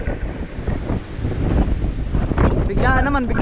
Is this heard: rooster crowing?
no